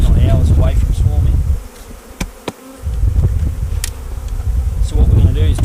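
Honeybees buzz densely around 8-frame wooden Langstroth hives just back from almond pollination and near swarming, a loud continuous hum with individual bees zipping close past, dipping briefly midway.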